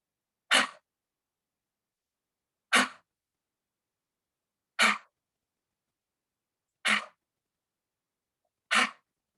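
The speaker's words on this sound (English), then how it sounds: "a ha breath, almost like in karate, a hi-ya, a strong exhale" Five forceful, breathy "ha" exhales during a yoga breathing practice, evenly spaced about two seconds apart, each short and sharp with silence between them.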